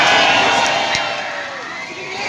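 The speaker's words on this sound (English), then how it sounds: "A massive round of applause to William." Crowd at an outdoor Christmas light switch-on cheering and whooping: a loud, dense wash of voices and applause, slowly easing off over a couple of seconds.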